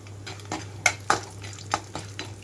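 Spatula scraping and clinking in a pan of oil as mustard-type tempering seeds, chopped ginger and roasted peanuts fry for wheat rava upma; several sharp metallic taps over a low, steady sizzle, close and alone.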